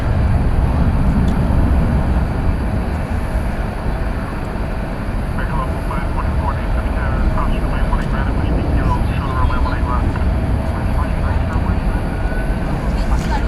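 An airplane at DFW Airport makes a loud, continuous engine roar that fills the whole stretch, with a person talking over it.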